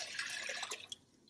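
A quart of water pours into a pot for tomato soup, a faint, bright splashing rush that trails off into quiet after about a second, with no voices.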